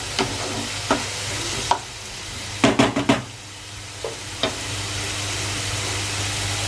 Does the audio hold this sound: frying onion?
yes